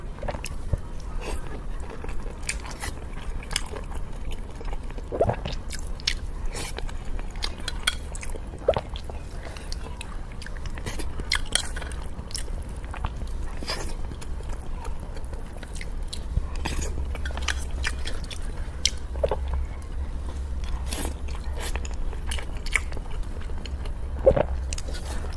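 Someone chews crunchy chicken cartilage close up, with a steady stream of soft crunches, wet squishes and small bites running continuously at an even, intimate level and no talk.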